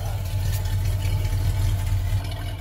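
A 1973 Ford Ranger pickup truck with a new exhaust idles steadily, giving a loud, deep, continuous engine rumble close by with no talking.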